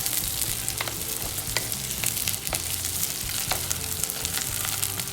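Brinjal frying in oil for a Palakkad-style brinjal puli, a dense, steady sizzle with crackling pops throughout, close and loud, with no voices.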